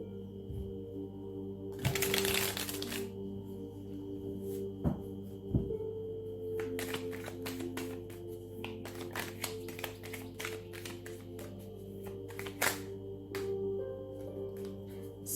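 Tarot cards are shuffled by hand during a quiet reading, with soft riffling bursts and light irregular taps and flicks close by against a faint steady hum, with no talking.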